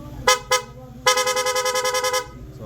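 A blow punk shell horn from a vehicle accessory package sounds two short honks, then a rapid string of about a dozen quick pulsing toots, loud and close.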